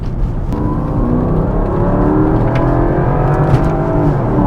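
Loud, close V8 of an original Porsche Cayenne S under steady throttle, its note rising gradually with a rich growl and faint ticking transients throughout.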